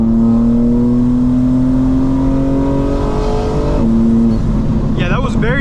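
A tuned 2025 BMW M4 Competition xDrive accelerates hard, its engine note rising steadily in pitch under loud interior drone, with a brief gear-change dip and a voice speaking near the end.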